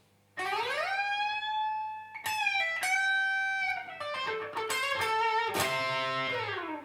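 An electric guitar plays a sustained lick with sliding, bending pitch glides and a few picked notes, loud and alone with no talking.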